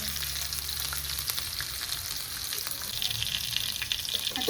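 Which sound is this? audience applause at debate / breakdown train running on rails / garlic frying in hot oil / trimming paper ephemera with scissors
garlic frying in hot oil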